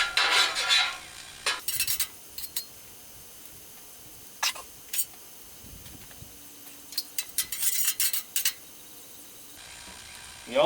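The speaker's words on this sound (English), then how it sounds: "Notice how I'm chopping them up a little bit and spreading them out." Metal spatula scraping and tapping on a Blackstone 28 inch griddle while hash browns are chopped and spread out, with short irregular clinks and scrapes in bursts over a quiet sizzle, close by and alone.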